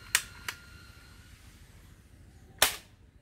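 A black toy BB gun fires three sharp, close cracks, two in quick succession and a third after a pause, each loud against a quiet background.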